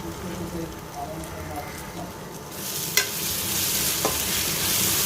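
Cumin, coriander and Kashmiri red chili powder fry in hot oil for an Assamese duck curry, a steady broadband sizzle with occasional stirring clinks, growing brighter and louder midway.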